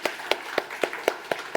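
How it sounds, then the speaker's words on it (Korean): A church congregation claps for the teachers, with about seven sharp, evenly spaced claps in quick succession, close and distinct, with no talking. "우리 수고했다고 박수 한번 합시다"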